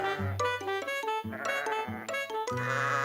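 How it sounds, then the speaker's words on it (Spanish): Cartoon sheep in a barn bleat repeatedly in a loud, wavering chorus of overlapping calls, close and alone without speech. "Había muchas ovejas peludas en el granero."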